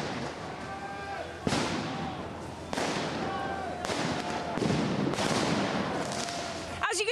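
Tear gas canisters fired at protesters during a Yellow Vest clash with police in Paris, a handful of sharp bangs and pops at irregular intervals over a constant roar of crowd and street noise.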